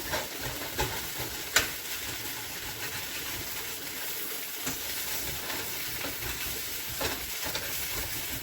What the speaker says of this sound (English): just use your spatula to scrape them up off of the bottom of the pan